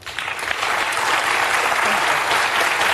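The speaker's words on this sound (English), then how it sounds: "I just think it's weird to be clapping." Studio audience of a daytime talk show breaks into applause, a dense, loud wash of clapping that swells quickly and holds steady to the end.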